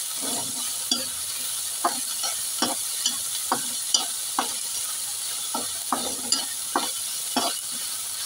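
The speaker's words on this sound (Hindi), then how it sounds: "चलिए मसाला को भून लेते हैं" Masala fries in a pan with a soft, steady sizzle, punctuated by regular scraping strokes of a spatula roughly once a second, close and moderately quiet, no one talking.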